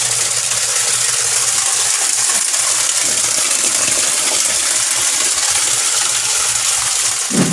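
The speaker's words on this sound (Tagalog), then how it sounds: "gumamit lang tayo ng yung pump na ilalagay natin dito" A pump transferring water from a koi pond into a quarantine pond gives a loud, constant gushing and rattling churn with a low motor hum underneath, unbroken for the whole stretch.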